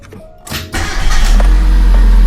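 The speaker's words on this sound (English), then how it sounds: "But first we should start the engine." A Mitsubishi Lancer's engine cranks and catches after a valve cover oil leak repair, a short starter whir rising into a loud, steady close-up idle.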